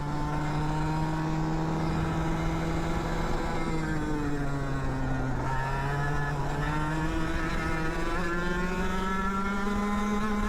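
Racing kart with a KA100 engine on a practice track, its buzzing two-stroke note steady and close, pitch dipping and rising as it brakes and accelerates through corners, with another kart running nearby.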